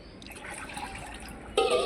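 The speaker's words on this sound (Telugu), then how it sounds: "ఏం కొద్దిగా నీళ్ళు పోయి ఆ గ్లాస్ తోటి చెట్టుకు ఒక గ్లాస్ పోసుకో" A glass of water is poured onto a plant: a soft, brief liquid splash and trickle, close by, rising slightly louder at the very end.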